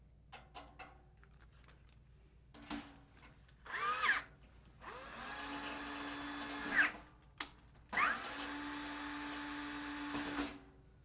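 Three bursts from a drill fitted with a drum key bit, spinning tension rods while drum heads are changed, each burst a few seconds long with brief pauses and small clicks between, close and fairly loud with no talk.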